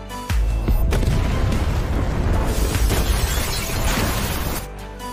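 A sudden loud bomb blast bursts out, then a heavy roaring rumble with crackling debris rolls on for several seconds before cutting off.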